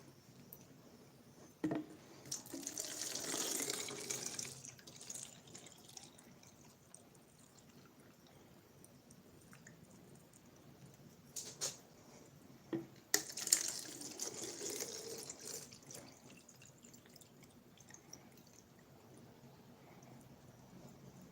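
Water is poured into a jar for rooting a houseplant cutting, giving soft splashing and trickling in a couple of short bursts with quiet pauses between, close by and fairly faint.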